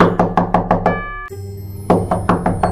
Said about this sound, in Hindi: अचानक जोर से कोई दरवाजा पीटने लगा